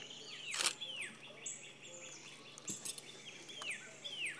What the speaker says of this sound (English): The bird is a ruby-throated hummingbird.